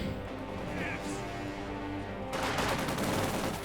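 Gunfire erupts in Company of Heroes 2 as Soviet conscripts face Panzer Grenadiers. A game voice and hum are heard first, then a dense, rapid crackle of shots fills the last second or so.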